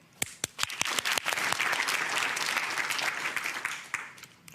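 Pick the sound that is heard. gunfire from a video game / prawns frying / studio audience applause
studio audience applause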